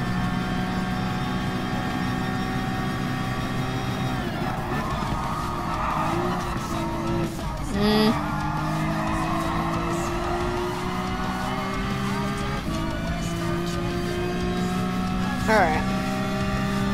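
A Ferrari LaFerrari in the video game Gran Turismo Sport races at high speed, its engine droning loud and then falling away under heavy braking into turns. Tires screech and skid, other cars pass, and someone talks over the action.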